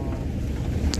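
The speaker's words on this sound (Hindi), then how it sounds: "यहाँ से बिल्कुल ठंडी ठंडी हवा आती है। बहुत ठंडी हवा आती है इसमें से।" Cold wind blowing out of a cave near Nainital, a close, rumbling gust buffeting the microphone with a steady low roar for about a second.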